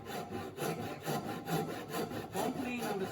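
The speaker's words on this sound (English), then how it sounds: "Don't lean on the saw, let the saw do the work, and stop." A hand saw cuts a wooden tenon in steady back-and-forth strokes, each rasping pass rising and falling in an even rhythm, close up with no talking.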